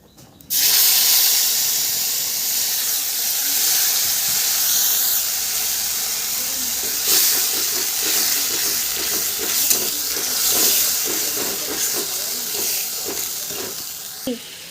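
Ground spices added to a hot pan for prawn malai curry give a steady loud sizzle and hiss, with light stirring clicks and scrapes building in the second half, no voices.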